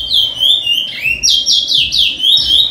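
A male songbird sings loudly and close in repeated bright whistled phrases, each a sweeping high note, in a short continuous burst with no talking.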